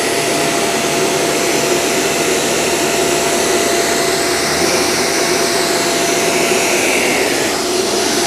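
A Shark Navigator Lift-Away vacuum cleaner runs steadily on carpet, a loud, continuous motor whine and airflow roar that holds level throughout with no voices.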